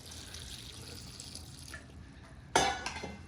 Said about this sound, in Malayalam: വേകാൻ ആവശ്യമായ വെള്ളം.